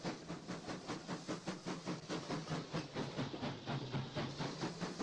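A train rolls over bumpy track in a train simulator game, its wheels giving a steady, fairly fast clickety-clack over a constant rumble and hiss, heard alone at moderate level.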